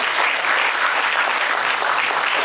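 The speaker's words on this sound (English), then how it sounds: "If you can please give a warm round of applause to Dr. Winters, I'd appreciate it." Loud, dense clapping from an audience at a fireside chat event, sustained and even for a couple of seconds.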